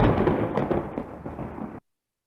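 A thunderclap in an animated fairy tale accompanies a ray that disintegrates a man, a loud rumbling burst with crackling peaks that rolls on for nearly two seconds before cutting off abruptly into silence.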